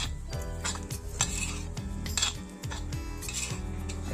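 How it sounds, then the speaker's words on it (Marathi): Grated coconut being roasted in a pan for a Malvani crab curry, stirred with a utensil that scrapes and clinks against the metal in a steady, close, continuous rhythm with no voices. "आता भाजून झालंय खोबरं वगैरे काढून घेणार"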